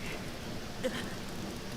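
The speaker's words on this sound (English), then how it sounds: "All the rain coming down" Rain comes down outside in a steady, soft wash of drops, faint and continuous, with a brief tonal blip partway through.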